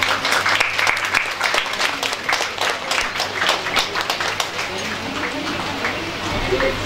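Audience applause at an endowment prize distribution ceremony as a professor hands over an award, dense rapid clapping filling the hall steadily for several seconds, fairly loud with a faint low hum underneath.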